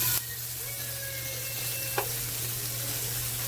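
Shrimp and scallops sizzle steadily in a hot pan, a continuous crackling hiss with a low hum underneath and one brief clink partway through.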